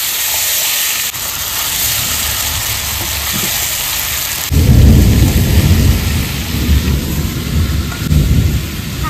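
A thunderstorm with heavy rain, a loud, steady rain hiss with a deep thunder rumble swelling midway and rolling on to the end, with no talk.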